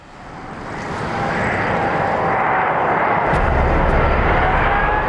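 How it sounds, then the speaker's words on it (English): Airbus A380 airliner touching down on a runway, a loud steady jet roar that swells and holds, with a deeper rumble joining as the wheels meet the tarmac. "Touchdown, the earth-shattering collision of wheels and tarmac."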